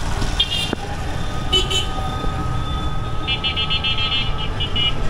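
Light traffic jam near Payra Chattar in Jhenaidah, with a continuous hum of engines and road noise and a few short horn toots standing out over the roadway.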